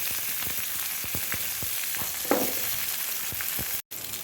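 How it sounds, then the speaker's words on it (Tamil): Shallots, garlic, ginger, asafoetida, dried and green chillies sauté in hot oil with a continuous close sizzle, broken by regular clicks and pops and one brief louder burst. "சின்ன வெங்காயம், பூண்டு, இஞ்சி, பெருங்காயம், காய்ந்த மிளகாய், பச்சை மிளகாய் ஒன்று பின்னாடி ஒன்று போட்டிருக்கோம். நல்லா வதங்கட்டும்."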